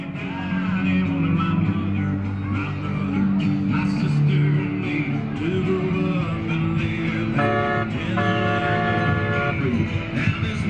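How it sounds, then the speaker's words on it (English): A replica CSX locomotive mini train with an intermodal car and caboose rolls through a Veterans Day parade in Jacksonville, a steady rumble under crowd noise, with a short horn-like tone sounding near the end. "The replica locomotive intermodal car and caboose recently made its debuts in Jacksonville"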